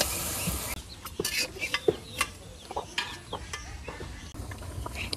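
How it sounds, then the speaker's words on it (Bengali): Bottle gourd stirred and sautéed in hot oil in a village kitchen gives a brief burst of sizzle, then quieter frying under repeated scraping and clacking strokes of a spoon against the pan. "লাউ দিয়ে দিলাম। এবার লাউ খুব সুন্দরভাবে কষাই নেই।"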